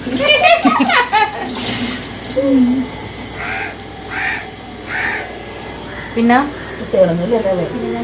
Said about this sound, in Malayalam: ഞാനാ സുമ്മാ വെള്ളത്തിൽ കളിക്കുന്നുണ്ട്